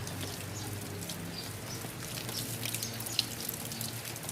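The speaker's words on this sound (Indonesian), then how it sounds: "Setelah itu bilas dengan air mengalir." Running water from a tap splashes steadily over soapy hands being rinsed, a continuous close hiss with light spattering and no talk.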